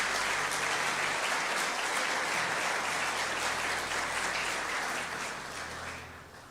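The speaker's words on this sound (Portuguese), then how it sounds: "Vamos aplaudir Jesus pela vida deles" A congregation applauds together in church, a dense steady patter of many hands that stays loud, then tapers off near the end with a low hum beneath it.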